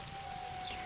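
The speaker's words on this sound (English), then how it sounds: "I mean, it's really raining, I can't tell." Rain falling in The Witcher 2: Assassins of Kings, a faint, steady wash of drops with a thin constant hum underneath.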